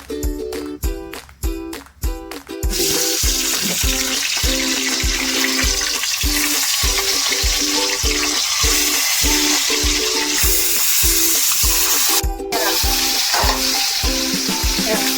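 Capsicum fritters in chickpea-flour batter frying in oil, a loud close continuous sizzle that swells after a few opening knocks, punctuated by a regular rhythm of stirring scrapes, no voices.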